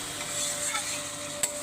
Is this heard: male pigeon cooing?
no